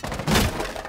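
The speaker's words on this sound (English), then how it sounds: "They broke the windows in the children's room, look out." Windows shattering in the video game Rainbow Six Siege, a short sharp crash with breaking-glass crackle lasting under a second.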